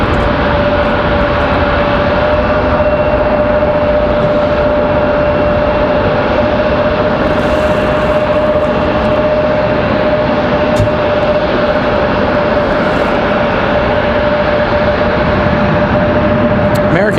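Jet aircraft at Raleigh-Durham International Airport, a loud, constant engine roar with a steady tonal whine, unbroken for the whole stretch.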